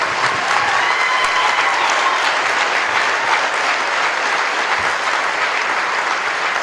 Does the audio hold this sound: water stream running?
no